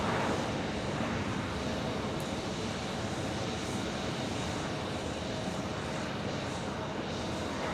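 An airliner takes off at Phoenix Sky Harbor Airport, giving a loud, steady broadband engine roar that holds throughout with no voices.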